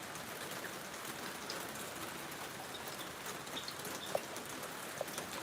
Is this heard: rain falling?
yes